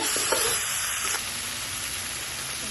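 Ground cumin, coriander, turmeric, chili and ginger paste sauté in a pan for a Bengali coconut fish curry with potato, beans and tomato, a loud continuous close sizzle with a few soft stirring touches.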